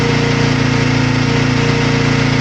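A motorcycle engine revved to about 3,500 RPM with the choke on, a loud steady close drone with an even pulsing throb and no change in pitch.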